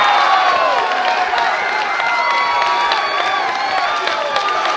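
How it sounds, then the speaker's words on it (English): Wrestling crowd at a Limitless Wrestling match erupting after a near-fall kick out, a loud continuous roar of cheering, shouting and clapping with high-pitched yells rising above the mass of voices. "This crowd erupting for the kick out by Alec Price"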